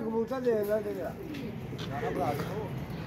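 Soft, low pigeon cooing in warbling phrases, close by, mixed with people talking over it.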